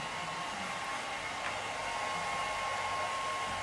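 A hair dryer blows air in a salon setting with a steady, loud, continuous whoosh and a faint high motor whine that runs unbroken throughout, with no voices.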